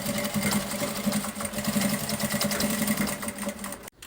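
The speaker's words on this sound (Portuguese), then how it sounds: "a gente vai passar uma costurinha aqui, pezinho de máquina" A sewing machine stitches a fabric lining, running loud and steady with a continuous whirring hum and rapid needle rhythm, then stopping abruptly near the end.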